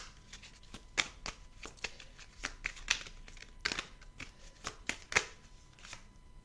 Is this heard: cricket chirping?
no